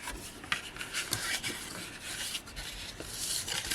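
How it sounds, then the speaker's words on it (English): Paper card being folded over and burnished down during cardmaking, heard as a steady soft rubbing and scraping with small irregular strokes, close and fairly quiet, with no talking. "a little bit of a fold over and a burnish down"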